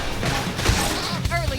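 Rapid bursts of gunfire from the video game Xenoblade Chronicles X crackle amid dense battle sounds and effects, with voices chattering over the short, busy skirmish.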